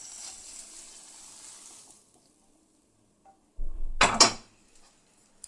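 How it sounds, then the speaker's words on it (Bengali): Paneer is tipped from a container into a pan on a switched-off gas stove, giving one short burst of scraping and clattering against the metal after a stretch of near silence. "আমি পনিরটা ঢেলে নিচ্ছি।"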